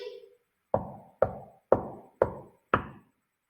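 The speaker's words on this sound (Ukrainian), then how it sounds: "Дятлик по дереву стукнув п'ять разів" A woodpecker knocks on wood five times in an even, steady rhythm, each sharp tap ringing briefly, right after a short bit of speech.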